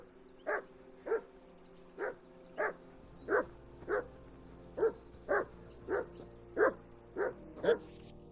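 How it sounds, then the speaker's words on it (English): A dog in Kingdom Come: Deliverance 2 barks steadily, about a dozen evenly spaced sharp barks at moderate distance, with no talk over them. "I assume you can hear that damn dog of yours barking."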